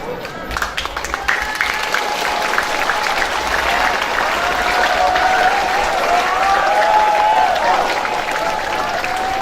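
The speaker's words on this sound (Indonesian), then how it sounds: "Kita beri tepuk tangan yang meriah sekali lagi untuk Bapak Ibu." Audience applause at a school Teachers' Day ceremony in Indonesia, marking National Teachers' Day and the PGRI anniversary: steady, loud clapping from a large crowd that sustains through the whole stretch, with a voice on a public address system sounding over it.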